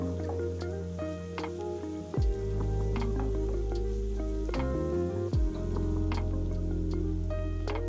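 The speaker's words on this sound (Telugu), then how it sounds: "ఐదు లేదా ఆరు పచ్చిమిర్చి పొడవుగా చీల్చుకొని అవి కూడా వేసేసుకొని వేపుకోవాలి" Five or six slit green chillies frying in oil for a Godavari-style fish curry, with steady sizzling and crackling spatters close by, alongside background music.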